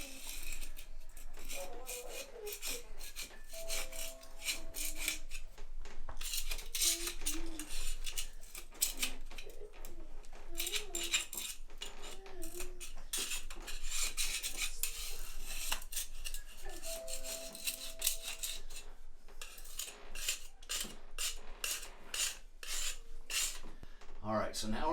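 Old caulking is scraped off around the base of a toilet on a tiled floor, a run of quick rasping, scratching strokes in uneven bursts, close and fairly loud, with a few brief clinks and a voice speaking in places.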